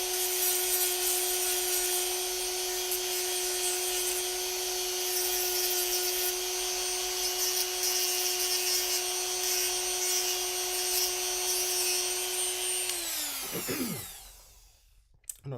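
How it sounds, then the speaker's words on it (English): Dremel rotary tool grinding down an action figure to bare plastic, a sustained high whine with steady tone that winds down and stops near the end, close and loud, no talk. "I like to Dremel until I actually basically hit the plastic"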